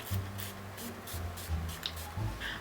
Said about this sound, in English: Now I'm going to spray my LA Girl Pro Setting Spray.